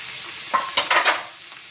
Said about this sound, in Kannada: ಇವಾಗ ಇದಕ್ಕೆ ಹಸಿಮೆಣಸಿನ್ಕಾಯಿ, ಇದು ಕೂಡ ಸಣ್ಣದಾಗಿ ಚಾಪ್ ಮಾಡ್ಕೊಂಡಿದ್ದೀನಿ, ಇದು ಕೂಡ ಹಾಕೋತೀನಿ